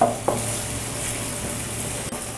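Big chunks of onion fry in a pan for a chicken stew, a constant close sizzling hiss with a brief stirring scrape near the start.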